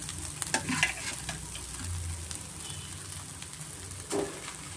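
Cooked rice being stirred into a hot pan for garlic egg rice, giving a steady soft sizzle with scraping and stirring noises throughout.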